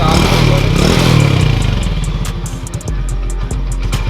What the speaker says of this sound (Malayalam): സൈലൻസർ വെച്ചിട്ടുള്ള സൗണ്ടാണ് നിങ്ങൾ കേട്ടുകൊണ്ടിരിക്കുന്നത്